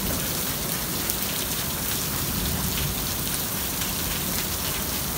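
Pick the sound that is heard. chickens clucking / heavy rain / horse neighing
heavy rain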